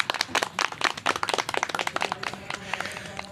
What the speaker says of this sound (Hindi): इसी बात पे गुप्ता भाभी के लिए सब लोग तालियां बजाएं मिलकर